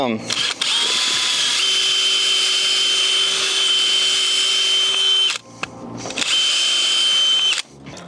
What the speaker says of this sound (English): drill almost the whole way through the bit